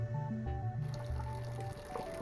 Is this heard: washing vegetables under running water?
yes